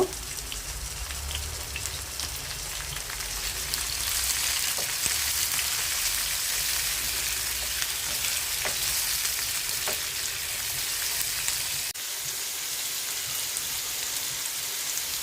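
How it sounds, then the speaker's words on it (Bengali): Shrimp fry with onions in a pan, making a constant close hiss of sizzling oil that swells slightly after the first few seconds and holds steady, with a few faint taps of stirring and no talk. "পেঁয়াজের মধ্যে দিয়ে দিচ্ছি চিংড়ি মাছগুলো একটু ভেজে নেব।"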